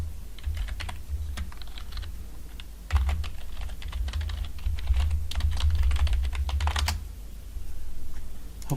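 Rapid, uneven clicking of a password being typed on a computer keyboard, close and steady for most of the stretch, with a low background hum and no talking.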